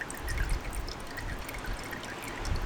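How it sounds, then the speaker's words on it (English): Diesel fuel dribbles from a removed Peugeot 306 HDi fuel filter into a drain tray, a steady close trickle with light irregular drips, no talking. "Bunch of fuel will dribble down."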